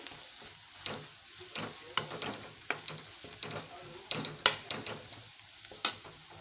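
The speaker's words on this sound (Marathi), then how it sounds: "हळद घातलेली आहे ती व्यवस्थित परतून घेते" Turmeric sautéing in oil in a pan for stuffed eggplant, with a soft, quiet sizzle and a scatter of sharp spatula scrapes and clicks as it is stirred.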